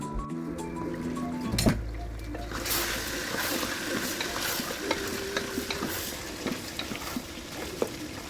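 Onions and spices sizzling and frying in a pan while being stirred for a Bengali kala bhuna meat dish, a steady close hiss with scraping spoon strokes and occasional clinks.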